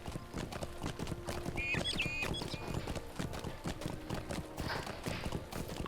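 A mount's hooves clip-clop in a steady rhythmic gait while riding in the Lord of the Rings Online video game, fairly quiet, with brief faint whinny-like tones mixed into the game ambience.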